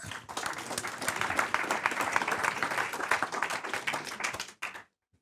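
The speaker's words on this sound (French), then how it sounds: "On l'applaudit encore" Audience applause after a student's startup pitch, a dense patter of many hands clapping steadily for several seconds before cutting off abruptly, with no talk over it.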